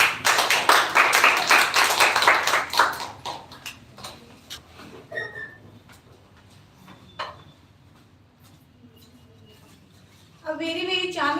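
An audience claps loudly to welcome a speaker to the podium at a school-style talk on saving water. Dense applause for about three seconds trails off into scattered claps, then talking starts near the end.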